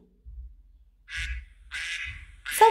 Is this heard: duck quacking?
yes